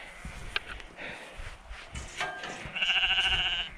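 Sheep bleat in a field on a Cornish coastal walk near St Austell, a wavering call rising toward the end over soft footsteps and outdoor rustle.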